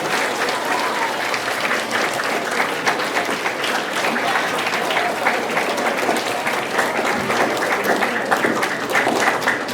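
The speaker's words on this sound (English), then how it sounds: "Let's give him one more big round of applause, please." Theater audience at a school auditorium gives sustained, dense applause, a steady wash of many hands clapping at even loudness throughout, with no talk over it.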